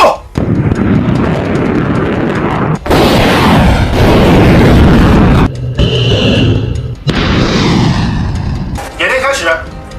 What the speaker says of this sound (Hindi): रॉकेट लॉन्चर से दुश्मन पर हमला करने का अभ्यास किया।